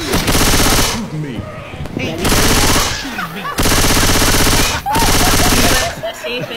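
Rapid bursts of automatic gunfire in a shooting video game, four loud sustained volleys separated by short gaps, with excited voices talking in between.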